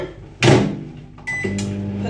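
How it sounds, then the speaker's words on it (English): Microwave oven melting butter for a banoffee pie: a door clunks shut, a button beeps, then the oven starts with a steady, close electrical hum. "I'm melting it in a microwave and it melts easier like that"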